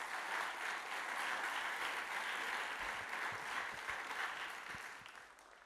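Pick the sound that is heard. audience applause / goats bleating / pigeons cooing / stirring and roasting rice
audience applause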